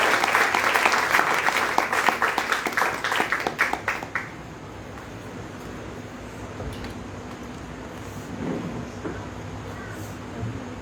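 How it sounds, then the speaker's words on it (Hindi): A church congregation claps and applauds enthusiastically for a few seconds, then the clapping fades out, leaving a quiet room hum with faint murmuring. "हम पास्टर साहब का स्वागत ताली बजा के करेंगे।"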